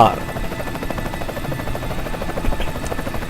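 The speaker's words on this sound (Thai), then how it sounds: "มีเฮลิคอปเตอร์นะครับ" Helicopter descending to land, a steady rhythmic rotor chop with a droning buzz that stays fairly loud and constant throughout.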